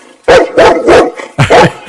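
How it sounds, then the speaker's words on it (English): A dog barks loudly and close by in four sharp, separate bursts spread over about two seconds, with short quiet gaps between them. "Hold on, we got 4 more seconds of Dodger barking"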